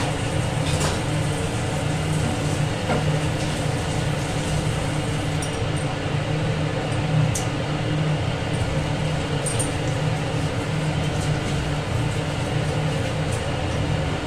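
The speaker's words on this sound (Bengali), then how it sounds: "তেল গরম হয়ে গেছে। এরপর ছোট ছোট করে বড়াগুলো করে দেব।" Gram flour fritters with chopped onion and salt sizzle in hot oil, giving a steady, even hiss and bubbling that holds at a constant level throughout, with faint scattered pops.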